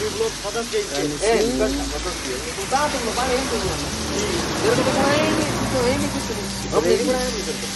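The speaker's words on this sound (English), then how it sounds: "I wanted to show you the rainy condition." Rain falling steadily in wet weather near Shimla during a cycling trip, a constant patter and hiss heard up close beneath someone speaking throughout.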